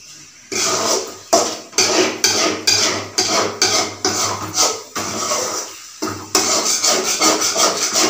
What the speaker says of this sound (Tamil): அடி பிடிக்காமல் நல்லா கிளறி விட்டோமா